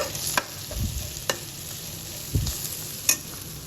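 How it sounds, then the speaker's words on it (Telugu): Ivy gourd (kundru) stir-frying in a pan at home, a steady low sizzle broken by a few sharp clinks of a spatula against the pan, close and without talk. "ఇక్కడ కుందరు ఫ్రై అయితే చేస్తున్నాను"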